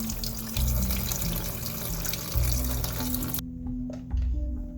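Water drains out of a container where something has been soaking for two weeks, making a steady, close rushing and gurgling flow that stops abruptly near the end.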